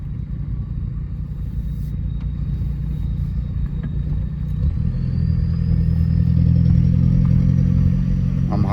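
A VW Jetta TDI diesel in third gear gives a steady low rumble that swells and climbs in pitch about halfway through, getting louder as the engine pulls under load from inside the car; no one speaks.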